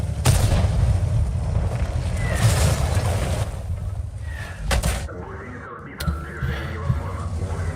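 Tank cannon fire in the online game World of Tanks: a few sharp, booming shots ring out over a rumbling engine and ambient battle noise.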